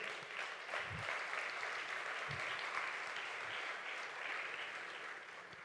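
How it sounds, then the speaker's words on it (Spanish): A church congregation claps steadily during a sermon, a faint, even wash of applause from a room full of worshippers with a few low thumps scattered through it. "Denle un aplauso al Señor."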